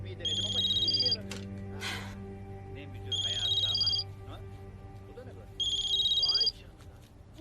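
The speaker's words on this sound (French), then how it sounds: "T'entends pas le téléphone?" A telephone rings in three repeated electronic bursts of about a second each, loud and close, with a steady low hum and quiet voices underneath.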